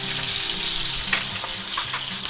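A chuck eye steak searing in a hot pan, sizzling loudly and continuously up close, with a few sharp spits and pops and no talking.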